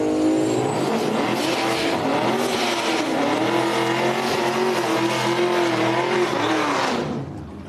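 A Chevrolet S10 drag racing at a drag strip, engine roaring loud and steady with a rising then sustained pitch through the run before cutting off abruptly near the end.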